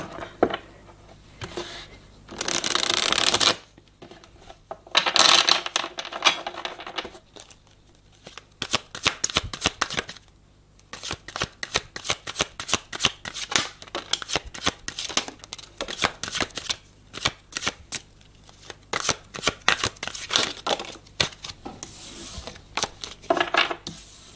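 Tarot cards shuffled close by, repeated bursts of riffling and slapping card sounds in uneven clusters, with brief quieter gaps between handfuls.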